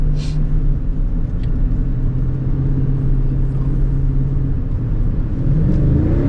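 A 2020 Toyota Tundra TRD Sport's engine accelerates with a loud, deep rumbling roar that builds steadily and stays close and continuous, with no talk over it.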